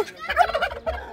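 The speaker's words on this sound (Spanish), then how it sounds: "Mira. Un pavo." A male turkey gobbling once up close, a loud rapid warbling burst with a short trailing gobble after it, heard on its own.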